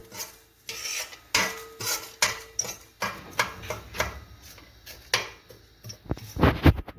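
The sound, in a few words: stirring and roasting spices in a pan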